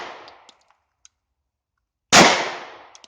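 A gunshot is fired at a British MK6 ballistic nylon army helmet: one loud, sharp report cracks out near the end after a near-silent pause, preceded by the decaying tail of an earlier shot and a few faint clicks.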